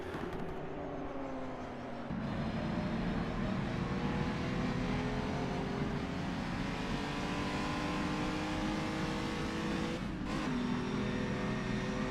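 Race cars at the Dundrod road circuit roar past in a steady, loud engine drone that builds after a short lull, with shifting revs and no talk over it.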